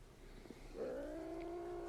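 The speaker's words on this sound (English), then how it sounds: "That's the trained kitten" A kitten gives a drawn-out, wavering tonal cry that starts about halfway through and holds to the end. It is fairly quiet and close, with a faint thump earlier and no voices.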